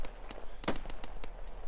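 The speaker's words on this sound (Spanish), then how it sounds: "Vale, a ver, disparos, ¿eh?" Gunfire in the World War II shooter Post Scriptum crackles as a string of sharp, fairly faint shots at irregular intervals, one closer and louder near the middle.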